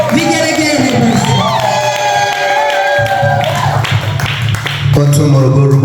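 Church congregation in Morogoro erupting in loud ululation and cheering to welcome a guest, sustained high trilling voices over a dense crowd roar throughout, with clapping mixed in.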